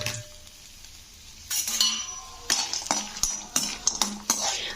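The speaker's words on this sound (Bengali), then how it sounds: "প্রথমেই আমি বড়িগুলো ভেজে নেব লাল লাল করে।" Bori, sun-dried lentil dumplings, frying in hot oil for a neem jhol, with a faint crackle giving way to scraping spoon strokes and clinks against the pan, close and moderately loud.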